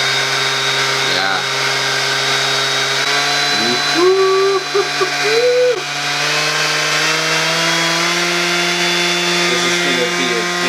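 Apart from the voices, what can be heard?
Dewalt battery-powered tool (sander or multitool) running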